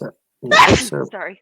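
A single sharp sneeze bursts out close by in a meeting, with brief talk just before and after it.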